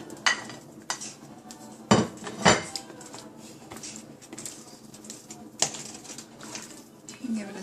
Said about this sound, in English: we're going to go ahead and put our potatoes in.